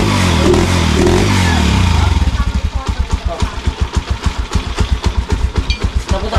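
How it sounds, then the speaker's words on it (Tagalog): A Honda TMX 155 motorcycle with a chicken pipe exhaust starts with a loud rev, then settles into a close, steady, thumping idle with an even pulsing beat. "At magsa-sound check na nga rin po pala tayo dito sa Honda TMX 155 natin."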